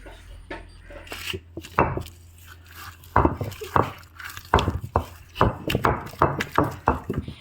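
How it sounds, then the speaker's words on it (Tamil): Raw mango with salt and chili powder is pounded on a stone ammikal, giving repeated hard thuds and crunches. The blows start sparse, then settle into a steady, close, fairly loud beat. "இப்போ எல்லா மாங்காவையும் ஒன்றா சேர்த்து நம்ம இடிச்சிக்கலாம்"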